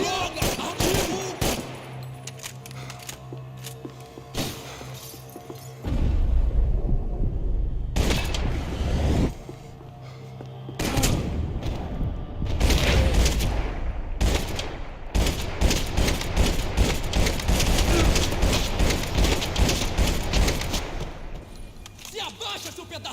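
Sustained bursts of automatic gunfire from the Max Payne 3 video game, loud and dense, rattling in long volleys with brief pauses between them.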